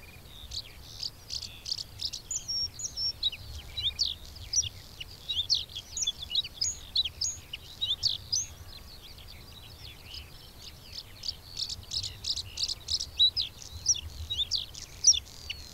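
A bluethroat singing in a rapeseed field, with repeated bursts of bright, rapid, varied song phrases over several seconds, fairly faint and outdoors, broken by short pauses.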